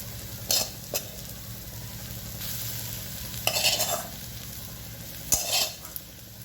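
Roasted ambadi (sorrel) greens stirred in a frying pan, a few sharp scraping clatters over a low steady sizzle.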